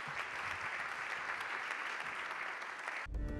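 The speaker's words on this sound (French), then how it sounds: "je pense qu'on peut les applaudir" Sustained applause from a conference audience at a talk on the circulatory economy and urban mining, steady and dense throughout, cutting off abruptly near the end into a low rumble.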